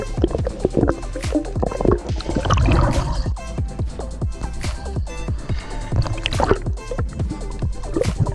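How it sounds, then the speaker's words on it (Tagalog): A small boat is pulled by hand through shallow water, with repeated sloshing and splashing strokes, close and irregular, broken by gurgling swirls as the hull drags along. "Hinihila ko na dito yung bangka"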